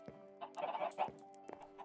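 Minecraft chickens cluck in short bursts, a few soft calls then a busier run of clucking, with a steady electronic hum underneath.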